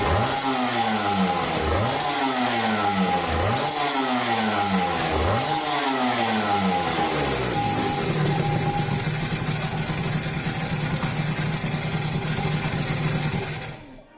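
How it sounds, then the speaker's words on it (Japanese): A Honda NSR250R motorcycle engine fitted with an Ethos right-side twin-outlet chamber exhaust runs close and loud, revving up sharply four times in a row, then holding a steady, buzzing high idle. "せっかくなんでエンジンを回した動画もアップしておくよ。"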